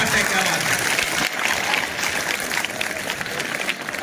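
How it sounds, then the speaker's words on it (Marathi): An audience claps through a motivational lecture, sustained dense applause with crowd noise, loud and continuous. "जोरात टाळ्या वाजवा यार"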